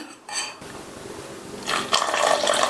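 Water splashes briefly into batter, then a thicker pouring and stirring follows with light clinks of a utensil against a bowl, close by.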